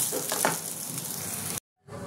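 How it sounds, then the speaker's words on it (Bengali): Dhoka lentil cakes for a prawn curry fry in oil, making a soft, steady sizzle with faint crackling. The sound stops for a brief silent gap, then resumes quietly. "তুলে বাদ বাকিগুলো ভেজে নেব।"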